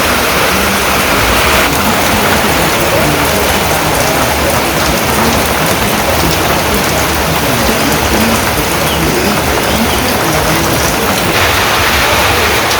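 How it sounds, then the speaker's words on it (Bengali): Steady, heavy rain pours down outside in a village, a dense continuous hiss of drops on surfaces that stays loud and unbroken throughout, with no voices. "তো বাইরে বৃষ্টি হইতেছে"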